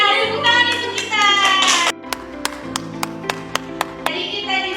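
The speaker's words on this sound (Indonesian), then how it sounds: "Nah, tepuk tangan untuk kita." Children in a primary school classroom clap their hands in a quick rhythmic pattern of sharp, separate claps, with a burst of high young voices before and after.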